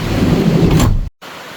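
Thunder rolls loud and close during a heavy storm at a campsite, with rain pouring steadily before the sound cuts out abruptly and the rain returns more faintly.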